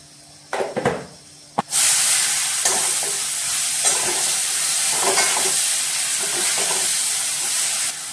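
Garlic and chili powder hit hot coconut oil, setting off a steady loud sizzle and hiss after a few clanks, with occasional stirring scrapes beneath the continuous frying.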